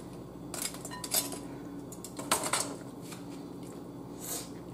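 Seafood-boil crab from an Aldi bag being dropped into a bowl: several clattering knocks and rustles of shell against the dish over a steady background hum, close and moderately loud.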